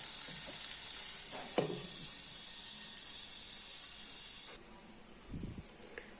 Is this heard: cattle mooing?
no